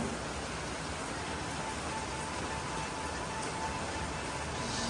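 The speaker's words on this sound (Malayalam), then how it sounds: "മഴ വീണ വാപ്പായും മോളും മഴ കണ്ടോണ്ടിരിക്കുക" Rain falls in a steady, even wash of hiss, faint to moderate and unbroken, with no voices over it.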